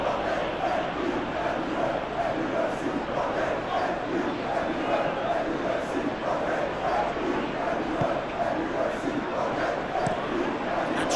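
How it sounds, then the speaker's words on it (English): Steady, dense roar of a football stadium crowd in the PES 21 video game during a simulated Manchester United versus AFC Bournemouth Premier League match, continuous and fairly loud with rhythmic chanting swells throughout. "Maybe the crowd will stay a little quieter next time."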